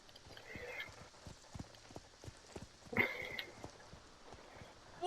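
Horse hooves clip-clopping at a steady walking rhythm as a sim rides in the video game The Sims 4, close and moderately loud, with a brief whinny-like call midway and soft voices in the background.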